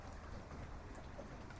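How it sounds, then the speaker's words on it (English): Heavy rain falls steadily by a riverside boardwalk under oak and chestnut trees, a dense, even hiss with no gaps. "And now the rain begins to fall in earnest."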